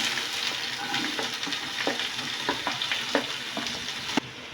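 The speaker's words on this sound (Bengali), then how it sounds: "এবার পেঁয়াজ কুচি আছে সেটাকে দিয়ে দেবো।" Chopped onion hits hot oil in a pan and sizzles loudly and steadily, with repeated light scrapes and taps of a spatula stirring it.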